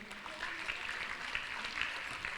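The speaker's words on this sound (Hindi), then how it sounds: "एक बार जोरदार तालियां।" An audience at the Netrakumbh 2021 opening ceremony in Haridwar claps, a faint, even wash of applause that sounds distant and continues steadily throughout.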